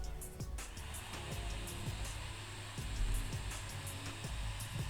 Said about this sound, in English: the sound of his whirring fan surrounds you